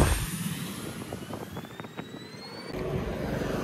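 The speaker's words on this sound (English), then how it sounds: "And here goes the plane." A plane departing in Tuvalu, heard as a steady jet-engine roar that builds and holds at moderate distance, with a rising whine running through it and faint background noise.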